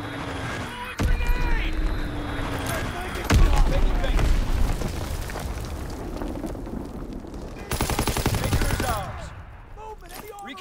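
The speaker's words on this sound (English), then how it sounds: "Dropping Azon bomb." Azon guided bomb dropping and detonating in Call of Duty WWII multiplayer: loud booming blasts and rumbling explosions mixed with ongoing gunfire, with a sharp heavy impact near the middle and a dense burst of crackling toward the end.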